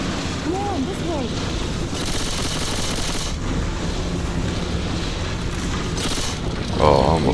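Gunfire in Left 4 Dead 2, heard as a dense, steady wash of rapid shots and noisy bursts that runs through the whole stretch, with a louder burst near the end.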